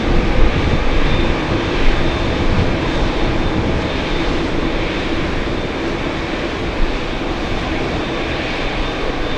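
A JetBlue airliner takes off at JFK airport with a loud, continuous engine roar that stays strong and fairly even throughout, with no talking over it.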